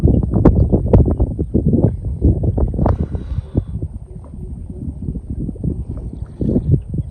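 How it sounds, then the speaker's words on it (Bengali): Strong wind gusting over a river during net fishing at incoming tide, roaring as continuous low buffeting with sharp bumps and knocks from the boat and net throughout, no voices. "সাথে হাওয়াও দিচ্ছে সেই রকম হাওয়া ঢেউ"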